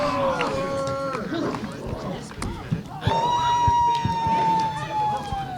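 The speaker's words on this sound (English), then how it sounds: "you can hear the roar of the crowd" A crowd at a wrestling show at a camp yells and screams, with loud shrill cheering and excited shouts rising and falling while people talk throughout.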